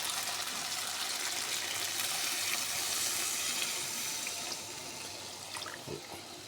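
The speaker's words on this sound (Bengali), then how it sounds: "এবার একটু জল দিয়ে দেবো।" Water pours in a steady, gushing stream into a curry of ground ginger, cumin and a little mustard paste with green chillies. The flow holds strong for several seconds, then tapers and thins toward the end.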